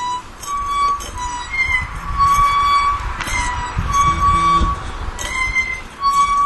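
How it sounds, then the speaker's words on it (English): An old metal clothesline squeaks as towels are hung on it, with repeated shrill squeals from metal rubbing on metal, close by and fairly loud. "I was hanging out the towels today to dry, and the clothesline sounds like this"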